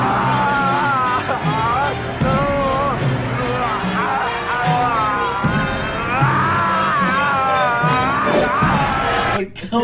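An actor as Conan the Barbarian yells and bellows almost without pause in a loud film fight scene, with clashing impacts and crowd noise underneath.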